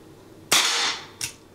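A Ruger SP101 .22 revolver fires two sharp, close cracks about 0.7 seconds apart, the first louder with a brief ringing tail, the second slightly softer.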